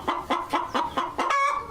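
Chickens clucking inside a mobile eggmobile coop with nest boxes, a quick series of about six close, loud clucks in steady rhythm ending in a drawn-out call.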